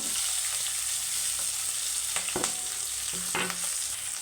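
Chopped onions and green chillies fry in oil for semiya upma, a steady close sizzle with a few brief clacks of stirring.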